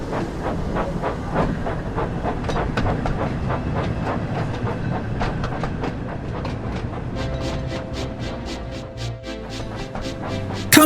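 A steam locomotive puffs along pulling coaches, its chuffs coming in a steady, quickening rhythm over a continuous hiss and rolling rail clatter, close and loud throughout.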